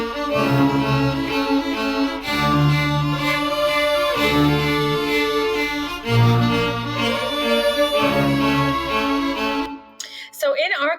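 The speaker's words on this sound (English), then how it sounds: "we can put them together and have the sound of the whole orchestra." Student orchestra playing together, its separately recorded parts mixed into one full ensemble sound, with sustained strings and steady low chords pulsing across the phrases before the music cuts off near the end.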